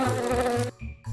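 A close, loud buzzing of a fly, droning steadily then briefly cutting out before resuming.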